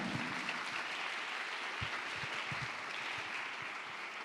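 An audience at a TEDx youth event applauds the speakers. The clapping is sustained, dense and even, and it fills the room at moderate level without a break.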